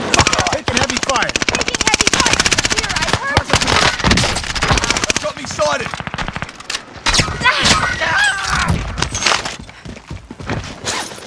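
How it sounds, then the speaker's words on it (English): Heavy gunfire in the Call of Duty Warzone video game, loud dense bursts of automatic fire that run almost without pause, mixed with in-game voices. "Taking heavy fire."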